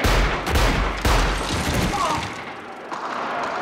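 Gunfire in the film Inglourious Basterds, a loud close burst of rapid shots and heavy thumps that fades into a rumbling tail.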